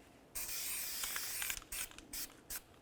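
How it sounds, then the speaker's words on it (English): Aerosol can of copper never-seize sprayed onto the hub mating surfaces of a Chevy Silverado rear axle: one long hissing burst, then several shorter spurts, close and clear. "Now we're going to spray down the mating areas with some copper never sees."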